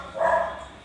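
A dog gives one short, muffled bark, moderately loud and somewhat distant, standing alone against a quiet indoor background.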